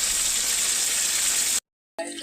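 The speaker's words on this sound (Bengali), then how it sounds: "এখন ভোলা মাছটাকে ভাজছি, নুন হলুদ দিয়ে ভোলা মাছটাকে ভালো করে ভেজে নিচ্ছি" Small bhola fish frying in hot oil with salt and turmeric give a steady, close, broadband sizzle that drops out for a moment, then resumes.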